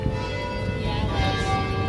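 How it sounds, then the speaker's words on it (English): The half-hourly bell chime of St. Patrick's Cathedral in New York rings in a steady sustained tone, heard faintly over a low city night hum on Fifth Avenue. "That's the hourly chime. Oh, not hourly, half hourly, because it's 8:30 right now."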